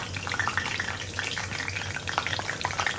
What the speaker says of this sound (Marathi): तर चला आता मस्त तेल छान गरम झालेलं आहे. आता आपण याच्यात टाकूया मस्त कढीपत्ता